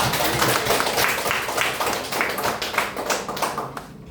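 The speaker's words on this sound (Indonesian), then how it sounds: "Terima kasih atas waktunya, kita kasih tepuk tangan." A classroom audience claps after a student group finishes its presentation, with loud, close, rapid hand claps crowding together into a brisk, uneven patter that thins out at the very end.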